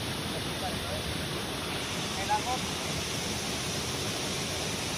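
A waterfall in Siocon, Zamboanga del Norte gives off a steady, soft broadband rush of falling water, even and continuous with no talk, heard from a moderate distance.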